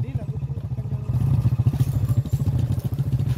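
A motorcycle riding on a forest road, a close engine putter and rumble with clattering over uneven ground, running steadily and growing louder partway through; talk is mixed in.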